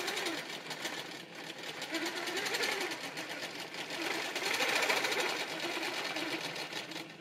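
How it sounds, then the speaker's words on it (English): A sewing machine stitches curves in quilting fabric with a continuous rapid mechanical whir that rises and eases in speed, close and steady, while a person talks faintly over it. "I'm just going to start stitching, going smoothly into these low points."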